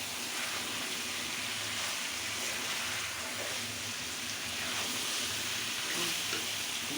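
Chicken pieces frying in oil in a home kitchen pan while being stirred, a steady, dense sizzle with faint scraping underneath, continuous and close throughout.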